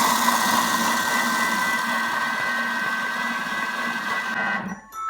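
A Thermomix food processor runs at speed 4 on a two-minute program making beet hummus, a steady, loud motor whir with a continuous hum that holds evenly and cuts off near the end.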